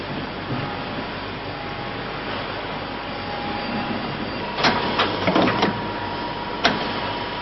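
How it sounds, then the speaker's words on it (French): A CNC machining centre swapping in its own cutting tools gives a low steady mechanical hum, then a cluster of sharp clicks and clunks followed by one more distinct knock. "Le centre d'usinage place lui-même les outils qu'il va utiliser pour percer, fraiser, rectifier ou ajuster la pièce"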